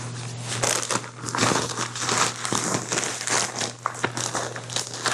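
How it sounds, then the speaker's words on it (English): A plastic bag holding kale and romaine is closed up by hand, giving steady crinkling and crumpling for several seconds, close and fairly loud, with no talking. "And I close the bag to keep it the freshest."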